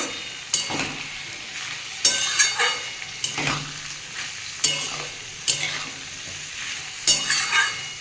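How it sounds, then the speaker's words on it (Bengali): Beetroot, carrot, tomato and peas sizzle steadily in a pan while a spoon stirs them, scraping and clinking against the metal in bursts every second or so, close and fairly quiet. "এটা আবার আমি একটু ভেজে নেব"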